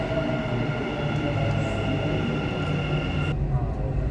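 A Dubai Metro train runs with a loud, steady rumble and hum, the tone holding throughout before a sudden shift near the end.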